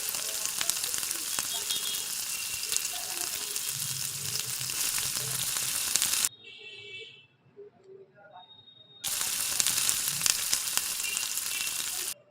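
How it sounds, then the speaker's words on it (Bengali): Tangra fish frying in hot oil, a steady loud sizzle that drops away briefly midway, then returns at full strength. "তেল গরম হয়ে গেলে একে একে সমস্ত ট্যাংরা মাছগুলো এপিঠ ওপিঠ করে ভেজে নিতে হবে।"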